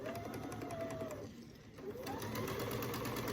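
A sewing machine stitching a quilt top runs in a fast, steady mechanical whir, briefly slowing and pausing before starting up again, close and prominent with no talking.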